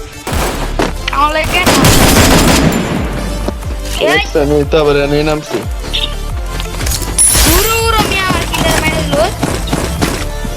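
Gunfire rattles in the Free Fire battle royale game, with repeated shots and bursts over loud game sounds, under a person talking.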